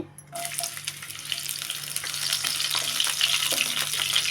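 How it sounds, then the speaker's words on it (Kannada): Mustard seeds and onion frying in oil or ghee in a home kitchen for veg fried rice, giving a steady, fairly loud sizzle with faint stirring scrapes throughout, no talking. "ಒಂದು ನಿಮಿಷ ಈ ಥರ ಫ್ರೈ ಮಾಡ್ಕೋಬೇಕು"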